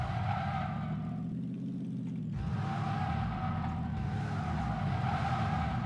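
A car in the video game PUBG Battlegrounds drives with a steady engine drone and tires skidding, the in-game vehicle sound continuous and fairly close throughout, with no speech over it.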